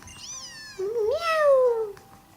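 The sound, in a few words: Litten fire cat Pokémon cry, Pokémon Sun video game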